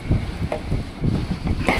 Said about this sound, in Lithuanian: Koksai vėjas, lietus tiesiai veidą